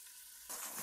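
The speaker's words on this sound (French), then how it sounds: "Je vais mettre mes carcasses et je mets vraiment à fond pour que ça aille bien cramer là." Spider crab carcasses fry over full heat with onions and fennel for a bisque, a quiet sizzle that swells abruptly midway into a louder, hissing crackle.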